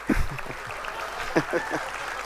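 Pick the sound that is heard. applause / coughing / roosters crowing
applause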